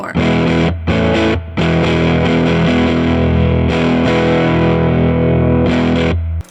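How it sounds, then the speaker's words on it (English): A heavily overdriven electric guitar through an EarthQuaker Devices Special Cranker overdrive pedal plays sustained, fuzzy chords with brief gaps between strums, loud and thick with distortion. "That sounds like a guitar."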